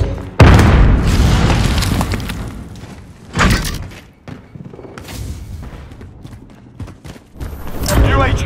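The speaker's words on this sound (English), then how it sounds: "Grenade out!" Deep booms from grenade explosions in a fast-paced video game burst out amid game noise, with a heavy blast near the start and another around three and a half seconds, rumbling under occasional voices.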